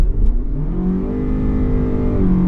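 A Toyota Crown sedan hybrid with a multi-stage hybrid system, in sport mode, accelerates at full throttle up a highway merge. The engine drone rises steadily and loudly for the whole stretch, with no talking.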